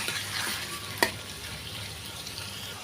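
Broiler chicken meat frying in a pan for a chicken and potato curry gives off a soft, steady sizzle, with one sharp clink about a second in.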